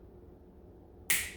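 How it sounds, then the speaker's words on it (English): A single sharp finger snap, close and crisp, cutting through near silence at the very end. "When I snap my fingers"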